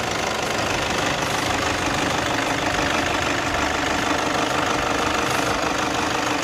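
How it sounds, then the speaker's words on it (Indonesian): A 2013 Toyota Hilux 4x4 with a 2.5 L engine idles, a loud, close, steady diesel-like clatter that continues evenly with no voices. "Ini dia suara mesinnya ya."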